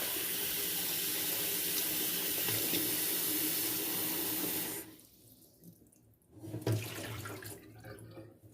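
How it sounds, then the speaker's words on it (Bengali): Water from a tap runs steadily into a sink to soak vegetables, then cuts off midway, leaving quiet handling noises and a short splash afterward. "এটা এখন আমি পানি দিয়ে ভিজিয়ে রাখবো"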